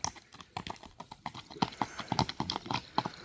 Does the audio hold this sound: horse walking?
yes